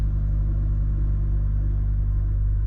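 A truck trailer's refrigeration unit running at a parking stop: a loud, continuous, close low rumble with a steady knocking pulse, unchanging throughout and without voices.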